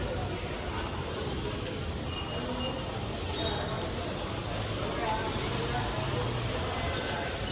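Heavy rain falls steadily in Haridwar, a dense, even hiss of drops on surfaces that holds constant and close throughout, with faint background voices.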